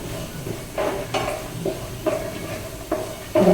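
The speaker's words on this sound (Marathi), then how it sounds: "शेंगदाणे आपल्याला व्यवस्थित भाजून घ्यायचे" Peanuts are dry-roasted in a pan for a chutney and stirred with a spoon, giving scraping and rattling strokes at an uneven rhythm over a faint background sizzle, close and without talk.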